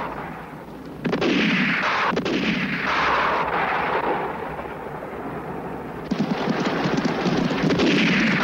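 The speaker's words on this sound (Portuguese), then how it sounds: "Estão atirando." Gunfire in a western film rolls out in heavy, booming bursts with long echoing tails, one burst near the start and another later, loud and without talk.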